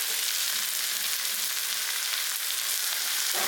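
Vegetables, capsicum, grated carrot, green chilli and curry leaves sizzling with semolina in a pan for rava idli, a steady, close, even frying hiss with no talk.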